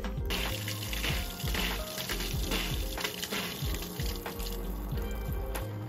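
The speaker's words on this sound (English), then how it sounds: "And now the water's flowing there." A turtle tank filter running as water flows through it, a steady close trickle and splash with a low rhythmic gurgle pulsing underneath, no talking.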